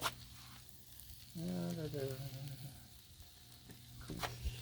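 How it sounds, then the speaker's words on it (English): Food sliding and sizzling in ghee on a Blackstone flat-top griddle at a Sunday brunch cook, a soft, fairly faint continuous frying hiss with a brief louder burst midway. "Slide these things around in the ghee."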